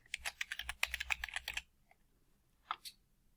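Rapid clicking keystrokes on a computer keyboard while a page title is entered in WordPress, a quick run of close, crisp taps for about a second and a half, then quiet with two more isolated key presses.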